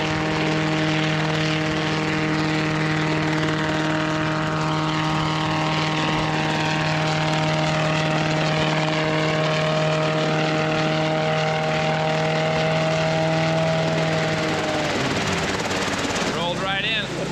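A helicopter's engine and rotor drone steadily with strong tonal whine, then spool down near the end, while voices talk over it.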